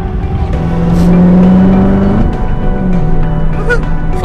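A 2016 Corvette Z06 on the road gives a loud, steady engine drone heard from inside the cabin, with a sustained hum that shifts pitch slightly as it cruises.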